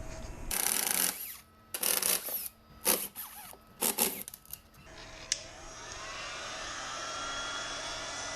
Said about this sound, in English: I've got my heat gun. I'm going to start heating the glue up